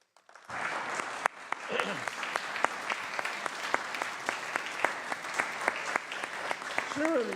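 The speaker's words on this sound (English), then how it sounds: "big round of applause." A large audience in a government floor session breaks into sustained applause, a dense, steady wash of clapping that holds at an even level throughout, with a few sharper claps popping out and brief voices rising over it.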